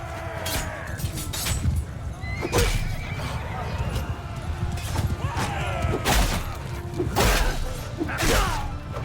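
Horses neigh and whinny repeatedly amid a Mount and Blade II: Bannerlord battle, loud and close over dense clashing combat noise, thuds and hoof clatter, with someone talking over it.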